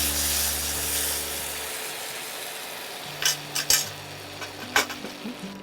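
Curry simmering in a pan as ghee and garam masala go in, a steady low sizzle giving way to a few sharp scraping clinks of a spoon against the pan, close up with no talk.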